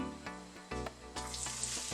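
Tortilla strips fry in olive oil in a pan, a soft close sizzle broken by a few stirring bursts, fairly quiet overall.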